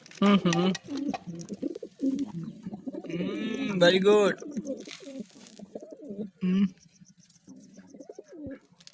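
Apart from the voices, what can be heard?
pigeon cooing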